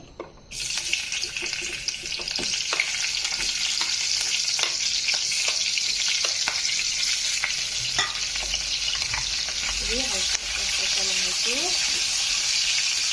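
Sliced onion frying in hot oil for Nepali-style chicken chilli gives a loud, continuous sizzle that runs steadily throughout, with a few brief stirring knocks and a short voiced sound near the end.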